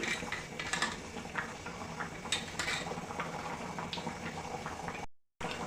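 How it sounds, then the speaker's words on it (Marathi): Colocasia leaf curry (aluche fadfade), cooked Malvani style, boiling steadily in a pot, with a continuous close bubbling hiss and occasional soft pops, no voices. "अळूच्या फतफत्याला चांगली उकळी आलेली आहे"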